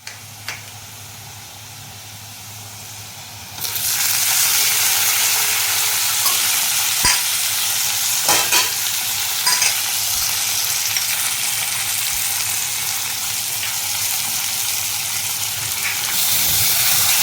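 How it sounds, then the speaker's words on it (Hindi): Onions frying in a kadai with mashed potato, garlic, turmeric, coriander and chilli, a loud steady sizzle that jumps up suddenly and continues with occasional clinks of stirring. "प्याज भून रहे हैं।"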